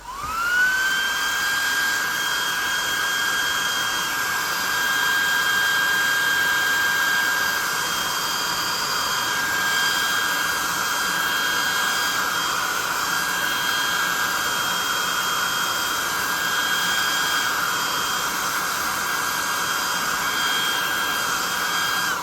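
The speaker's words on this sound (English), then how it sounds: "let's hit him with the +2 hot air gun of burning. Low heat." A hot air gun runs steadily on low heat while drying paint on a tabletop miniature, producing a close, continuous whooshing roar with a sustained whine that rises at the start and holds evenly throughout, with no speech.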